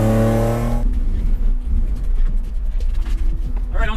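A stock BMW E46 with an M52TU engine on a dyno rumbles with a low, steady engine drone after a brief sustained tone, growing slightly toward the end.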